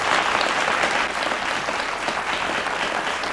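A talk-show studio audience claps steadily to welcome 16-year-old Kristie, a thick, even roar of applause holding at full volume throughout with no voices on top.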